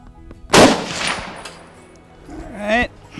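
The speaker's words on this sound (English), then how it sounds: "First I'm going to shoot the first 7400." A Remington 7400 rifle fires a single loud, sharp shot outdoors with a lingering echo, followed by brief mechanical clatter and a short vocal sound.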